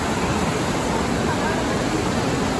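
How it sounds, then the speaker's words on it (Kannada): The Kaveri river pours forcefully past the bathing ghat at Srirangapatna, a loud, dense, unbroken roar of rushing water that fills the whole moment. "ಇಲ್ಲಿ ನದಿ ನೀರಿನ ಫ್ಲೋ ಹೆಂಗಿದೆ ಅಂತೇಳಿ ನೋಡಿ, ಎಷ್ಟು ಫೋರ್ಸಲ್ಲಿ ಹರಿತಾ ಇದೆ ಅಂತೇಳಿ."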